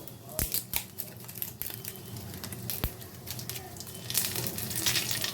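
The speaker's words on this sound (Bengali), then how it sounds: "দুটো তেজপাতাকে ছিঁড়ে দিয়ে দেব" Dry bay leaves are torn by hand into hot oil that already holds cumin, five-spice seeds and dried red chillies. Crisp crinkling and tearing snaps sound close up over a soft, steady sizzle.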